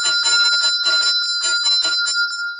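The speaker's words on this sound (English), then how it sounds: "The temple bells ring before dawn" Temple bells ring in India with bright, sustained metallic tones, struck in a quick irregular series of loud hits that keep ringing on together.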